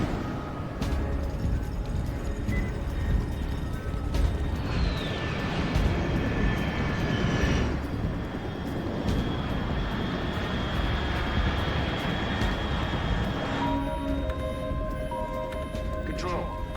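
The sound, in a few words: aircraft flying overhead in Metal Gear Solid Delta video game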